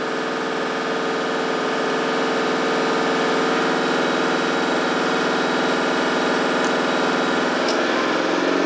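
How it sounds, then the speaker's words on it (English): A vehicle engine fitted with a DC-to-DC charger for a lithium battery is held at high revs, giving a loud, steady, unbroken roar that stays constant throughout with no voices. "I'm revving quite hard now, and as you can hear, there's a lot going on with the engine there."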